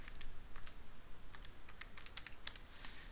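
Quick bursts of keyboard typing as numbers are entered into a calculator on a computer, a dozen or so crisp clicks in an uneven rhythm over faint background noise, close and moderately quiet.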